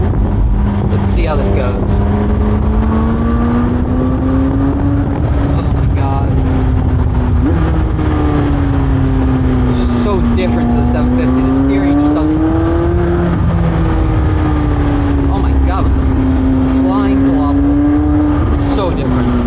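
A McLaren 720S sports car drives hard along a tight back road with hairpins, its engine droning loudly and steadily with pitch rising and falling through gear changes and corners, heard from inside the car.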